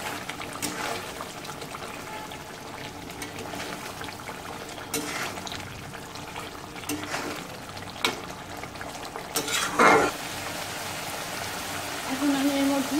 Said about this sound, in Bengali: এখন আমি এর মধ্যে পানি দিয়ে দেবো।